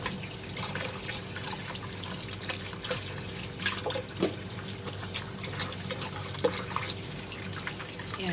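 Vegetables, including sweet corn for pakbet, being washed under a running kitchen tap, a steady moderate stream of water with occasional splashes and drips, no talking.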